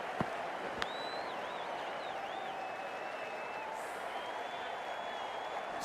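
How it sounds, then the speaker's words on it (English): Stadium crowd at a Melbourne Stars versus Melbourne Renegades T10 cricket semifinal, a steady loud roar of applause and cheering with a couple of sharp bat-on-ball knocks and a whistle, commentary voices over it. "This crowd is so loud and they're very expectant."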